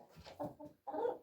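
Several chickens cluck in short bursts on a goat farm where white roosters are kept, fairly close and moderately loud with brief pauses between calls.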